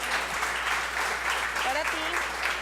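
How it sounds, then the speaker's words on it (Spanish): Audience applause at a tech talk event in Medellín, with steady clapping throughout while voices talk over it. "Un aplauso, porfa."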